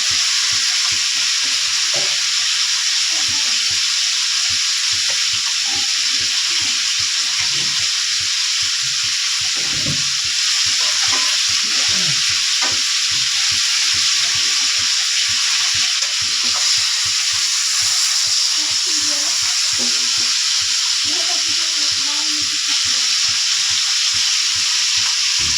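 Leafy greens fry loudly in a pan, a dense continuous sizzle and hiss close up with frequent stirring clatter and no talk.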